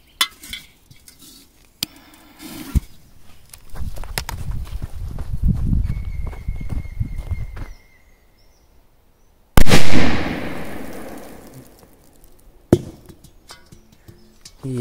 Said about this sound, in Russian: Давайте начнем с вот такой петарды Black Devil, супер мощная.